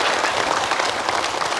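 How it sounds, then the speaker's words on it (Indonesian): A studio audience at a televised religious show bursts into brief, dense applause, loud and close. "tepuk tangan dulu deh untuk Ustaz Munawir."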